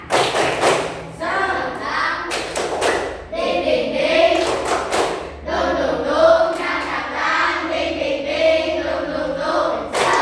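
A school class performs a spirited rhythmic clapping routine, sharp loud clap bursts and thumps falling in a patterned beat between children's chanted voices, close and energetic.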